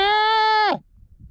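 A lamb gives one clear, close bleat lasting under a second, bright and steady before dropping off sharply, heard on a hillside during a mountain bike ride.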